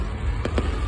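Fireworks explode outdoors in two quick, sharp bursts over a dense background rumble of crowd noise.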